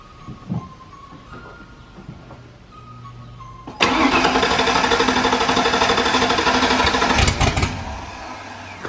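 A turbocharged Fox-body car cranks and its engine catches and roars to life partway through, running loud and steady close by after a quieter stretch of shop noise.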